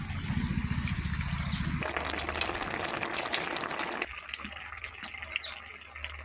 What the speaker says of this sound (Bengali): মাছটা দেখি এই সামান্য একটু জল দেবো